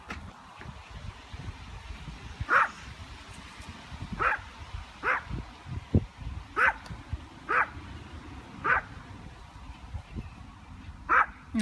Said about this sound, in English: Really a bark like from such a small dog.